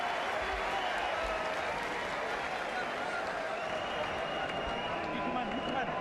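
Boxing arena crowd roaring and cheering for champion Ricky Burns during his bout with Terence Crawford, a dense, steady wall of noise with scattered claps and shouts and a commentator talking over it.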